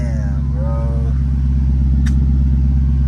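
A Corvette engine runs close by with a steady, deep rumble and a few faint chirps early on and a sharp click midway, holding an even idle throughout.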